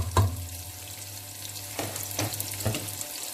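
Onions fry in melted butter in a pan for homemade sausage tacos, a close, soft steady sizzle broken by a few sharp knocks and scrapes as they are stirred.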